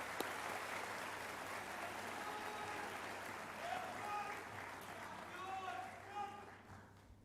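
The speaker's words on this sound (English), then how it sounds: "I think we should give them a round of applause for what they've had to go through" An audience at a secondary school graduation ceremony applauds the graduating cohort, a continuous wash of many clapping hands at moderate distance, with scattered cheers and voices rising near the end.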